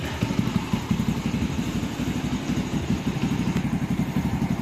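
A nine-year-old SYM RV1-2 110 motorcycle engine idles close by, a steady, even low putter that runs alone throughout.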